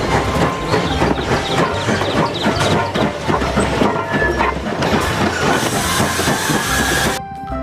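A Thomas toy train runs among other toy vehicles, giving a steady, close rattling clickety-clack with a light hiss that carries on without pause and then stops abruptly near the end.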